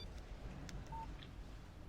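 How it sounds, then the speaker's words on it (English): A short, faint electronic phone chime sounds once for an incoming text message in the Alan Wake video game, set over a steady low background hum. "Text message from Barry."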